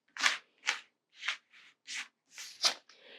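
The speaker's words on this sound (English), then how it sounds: "We got to shuffle again." Tarot cards riffle-shuffled in seven quick separate bursts, crisp and close, with short pauses between them and no talking.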